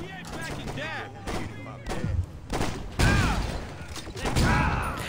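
Shotgun blasts boom in the video game Saints Row, several heavy, close shots fired in separate bursts, with a voice talking over and between them.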